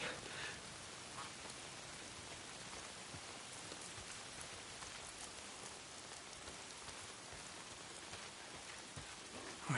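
Steady, hissing rain falling on surfaces, an even broadband wash that continues without break for about ten seconds, fairly faint and with no voices.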